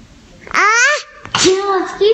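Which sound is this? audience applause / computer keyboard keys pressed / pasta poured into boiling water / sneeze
sneeze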